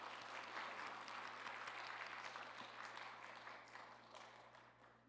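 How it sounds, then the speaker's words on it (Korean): Church congregation at a Sunday service applauding in welcome of a new Sunday school staff member, a dense steady wash of clapping with a low hum underneath, fading slightly toward the end. "이 시간 인사할 때 박수로 환영하도록 하겠습니다."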